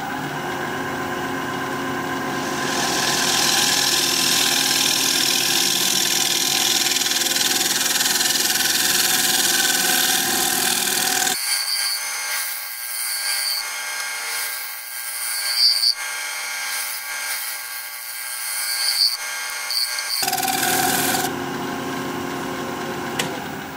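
A scraper cuts into spinning wood on a wood lathe: a steady, loud whirring hiss with a motor hum beneath, dropping to a thinner, higher scraping tone midway before the fuller sound returns, with no talk.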